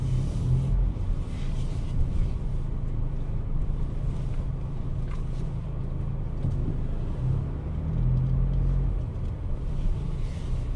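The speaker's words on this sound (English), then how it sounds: "we'll start by driving off to find a parking space" A Ford Ranger pickup drives off at low speed, its engine and road rumble a steady, close drone with wind buffeting over it; no one speaks.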